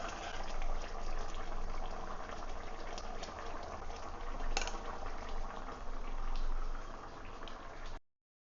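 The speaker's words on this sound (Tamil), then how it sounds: "புளி ஊற்றுனதுக்கு அப்புறம் குழம்பு நல்லா கொதிச்சிச்சு" Sambar with tamarind added boils hard in a pot, a close, continuous bubbling and gurgling that rises and falls slightly for about eight seconds before cutting off, with no voices.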